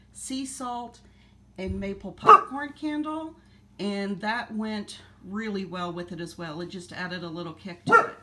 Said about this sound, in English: I'm sorry if you hear my dog barking.